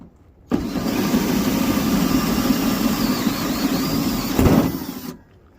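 A battery-powered cordless power tool cuts through the sheet metal of a camper van in one loud, continuous burst of about five seconds, surging briefly near the end before stopping abruptly.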